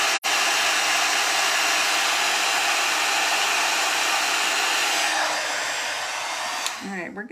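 A heat tool blows loudly and steadily on a die-cut card piece for about seven seconds, its whir dropping slightly before switching off with a brief wind-down.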